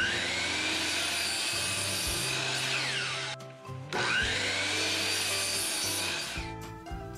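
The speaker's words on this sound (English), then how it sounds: "Next, for each of these crates, let's cut these pieces up into 10 18 inch pieces." A power saw cuts wooden boards into pieces for crates, giving a loud continuous whining cut with a tone that rises and falls, a short pause midway, then another long cut, no talking.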